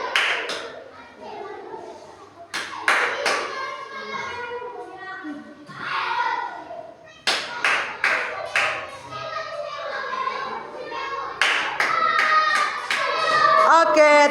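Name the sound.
clapping for the robot Steven and programmer Diani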